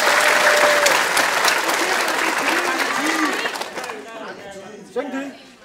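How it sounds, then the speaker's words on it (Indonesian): An audience claps steadily at a community health talk, with loud applause that fades over a few seconds into scattered claps and murmuring voices. "Pada mana beri tepuk tangan untuk kita semua."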